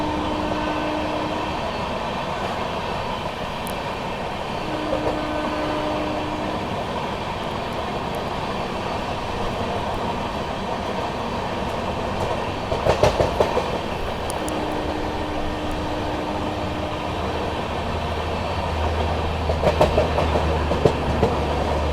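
Vikramshila Express running through Tundla Junction without stopping, a steady loud rumble of wheels on rails throughout, with clattering joint clicks building around the middle and near the end.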